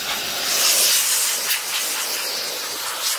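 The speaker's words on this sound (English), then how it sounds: "So we just recharged the air compressor. Let's finish it out. Whoa, we got some power now." Compressed air from a freshly recharged air compressor blasts steadily, loud and hissing, cleaning an Amsoil pre-filter and air filter from an LMM Duramax, with a brief surge partway through.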